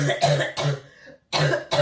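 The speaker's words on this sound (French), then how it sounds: "Chaque nuit je me réveillais parce que j'étais en train de suffoquer, de tousser." A few harsh coughing bursts close up, a short pause, then another fit of coughs, like someone demonstrating a nighttime choking cough.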